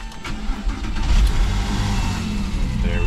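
A car engine cranks briefly, catches with a loud mid-pitched surge about a second in, then settles into a steady running idle close by.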